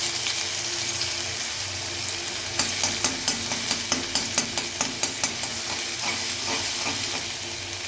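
Chopped ginger frying in white oil in a pan for a chicken soup, a steady close sizzle throughout, with a run of sharp rhythmic stirring clicks from the spoon in the middle.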